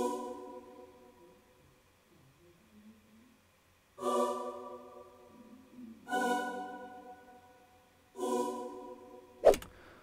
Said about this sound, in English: I added an expand. I used the female O choir